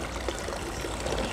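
Water runs in a steady stream from a public drinking fountain outdoors, a soft, even splashing and trickle heard alone at close range.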